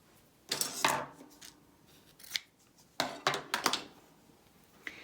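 Scissors trim green Christmas fabric, making several crisp, close snipping cuts in two quick groups with a short gap between them.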